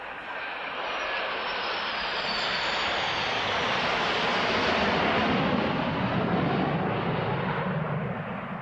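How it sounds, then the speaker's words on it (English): Several military jets including F-16s, Gripens, Eurofighter Typhoons and Rafales fly past during a NATO airshow in Belgium, a continuous loud roar that builds and holds steady, filling the air without pause. "There will now be a flypast of aircraft from Belgium, the United States, Italy, Germany, the United Kingdom, the Czech Republic, France, and the Netherlands"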